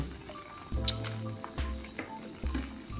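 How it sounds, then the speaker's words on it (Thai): Crispy catfish pieces sizzle and crackle in hot frying oil as they are turned over to cook the other side, giving a steady, close hiss with louder bursts of bubbling after each flip. "เดี๋ยวเราจะ พลิก เอาอีกฝั่งขึ้นมาทอดต่อ ไอฝั่งลงไปทอดต่อให้โดนน้ำมันต่อนะครับ"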